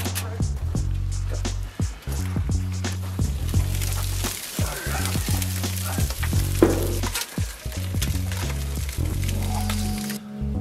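Kokanee fish sizzle and crackle steadily on a grill, a close, continuous frying hiss with scattered pops and scraping, and voices talk at times.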